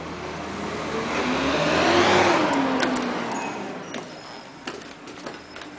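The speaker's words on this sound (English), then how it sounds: "The garbage truck is down the street." A garbage truck passes down a residential street, its engine swelling as it nears and then fading away over a few seconds, with a few faint clanks and knocks afterward.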